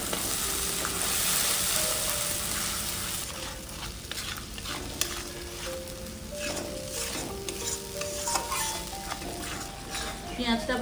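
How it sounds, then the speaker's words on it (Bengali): Onion paste sizzles and fries in hot oil with whole spices and salt for a Bengali katla fish malai curry, a steady close crackle broken by stirring scrapes and light utensil clinks. "পেঁয়াজটা ভাজা হয়ে গেছে"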